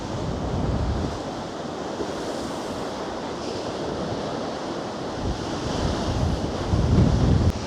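High storm waves crash against the Blackpool promenade near high tide, a loud, continuous roar of surf with heavy wind buffeting the microphone and swells that build toward the end.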